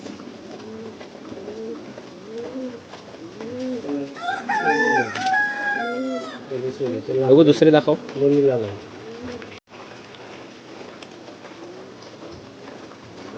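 Lavri Shiraji pigeons coo in soft, rounded calls, with a burst of louder bird calls midway, while someone talks over them in a close, noisy setting.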